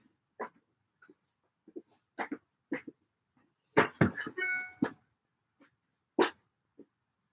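A pet dog barks and whines indoors, wanting to be let in through the door during a home sewing session; short yips and barks come in scattered bursts over several seconds, moderately close, with no talking.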